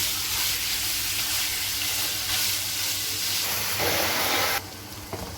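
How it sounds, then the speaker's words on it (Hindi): Chicken pieces frying in oil with garlic give a loud, steady sizzle and hiss that cuts off sharply near the end, leaving only faint kitchen noise, with no talking. "चिकन को कलर आने तक थोड़ा सा फ्राई करेंगे।"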